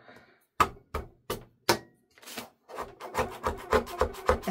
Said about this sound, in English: my guillotine is just eating it up and does not like it